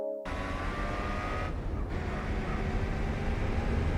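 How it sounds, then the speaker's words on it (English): Throaty muscle car engine in Gran Turismo 4 roars steadily and loud from start to finish, a dense low rumble with a brief dip in the upper range midway. "Listen to the sound of that engine."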